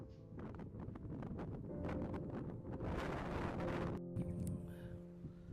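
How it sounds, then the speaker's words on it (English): Strong gusty wind buffets the microphone in a continuous roar, surging louder for a few seconds midway before easing slightly. "It's very windy, but it's warm."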